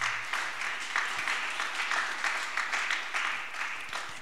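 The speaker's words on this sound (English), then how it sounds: "Let's give God a round of applause." Church congregation applauding during a sermon on generosity, a dense, steady wash of clapping that holds evenly for a few seconds with no voices over it.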